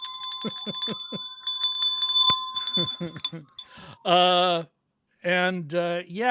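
Bright metallic bell dings ring out repeatedly, with a person talking between and over the chimes.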